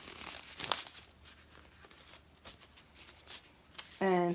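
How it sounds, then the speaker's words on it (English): Plastic bag crinkling and rustling as rusty restoration parts are handled and dropped in, close and intermittent, with a couple of sharper crackles and a brief clunk near the end. "I'm going to put them in a plastic bag"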